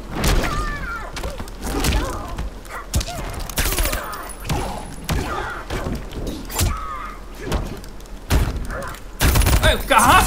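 Gunfire in the Mortal Kombat 11 fighting game, sharp repeated bursts and thuds mixed with game effects, with a player's voice talking over the action.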